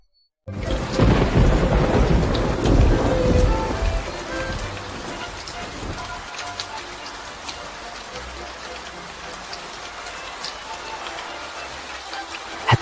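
Heavy rain pouring in the mountains during a thunderstorm, opening with a loud rolling thunder crash that fades into steady dense rainfall hiss lasting to the end.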